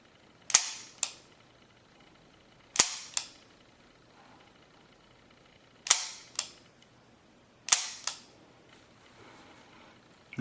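Handgun shots fired at a target on a range, four pairs of sharp cracks in a steady double-tap rhythm, each pair close together and loud against quiet background, with a fifth shot starting at the very end.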